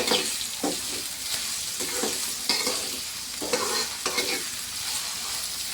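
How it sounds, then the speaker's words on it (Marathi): Onion and garlic fry on full heat in a pan while being stirred, a steady loud sizzle broken by repeated scraping strokes of the spoon roughly every half second to second, with no talking. "आता थोडा आपला कांदा, कांद्याला आणि लसूणला हलवून घ्यायचं आपल्याला चांगल्याने।"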